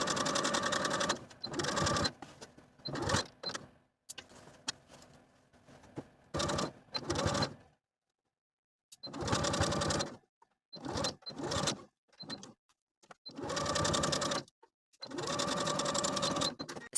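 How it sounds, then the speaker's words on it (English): A sewing machine stitches the welt pocket edges of a vest in several bursts of rapid mechanical whirring, each lasting one to two seconds, separated by short pauses and near silence. "Then you can continue sewing the remainder of the pocket with a 1/2 inch seam allowance until you're back at the bottom folded edge."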